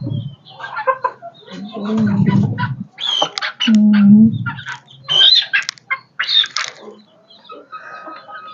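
Country chickens on a small poultry farm cluck and squawk in a busy flock, with a rooster's call mixed among the close, overlapping bird voices.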